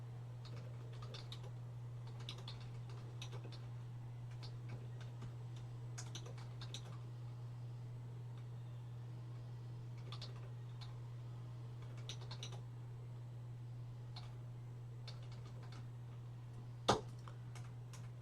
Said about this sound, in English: as you can hear, I'm actually typing.